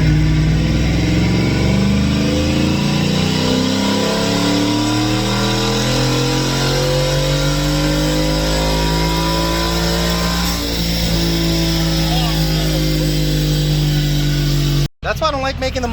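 A Ford F150 with a 10R80 transmission revs hard through a long dyno pull, its engine note climbing steadily through the gears with loud rising harmonics before cutting off abruptly near the end.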